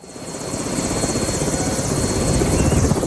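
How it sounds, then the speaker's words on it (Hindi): A helicopter flies close by with a loud, continuous rotor drone and rapid chopping pulses that build slightly in strength, with no talking. "अभी ये हेलीकॉप्टर में बैठी हुई है।"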